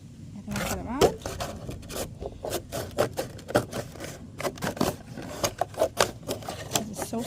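Scissors snip through a thin plastic container being cut into reusable plant tags, a steady run of short crisp cuts and scrapes, close and moderately loud, with faint talk underneath.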